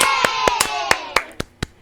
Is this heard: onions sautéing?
no